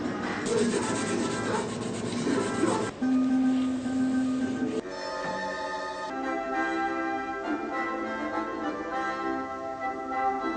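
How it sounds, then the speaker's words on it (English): Electric violin fingerboard rubbed down with steel wool, a continuous close scratchy rubbing layered with other tonal sounds and a brief steady tone partway through. "now I'm going to sand it up to steel wool so I can start putting some oil on it"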